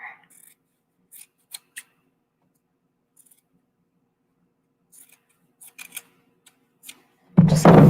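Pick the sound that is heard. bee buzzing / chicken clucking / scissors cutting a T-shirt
scissors cutting a T-shirt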